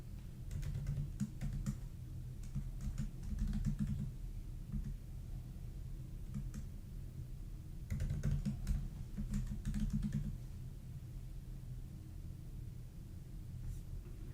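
Soft, irregular keystroke taps on a computer keyboard while a password is entered during a software setup, clustered in short bursts over a steady low hum, fairly quiet and close.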